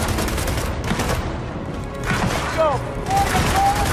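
Gunfire in the Gears of War 4 video game: a fast burst of shots and rattling bursts under a shouted voice, loud and close.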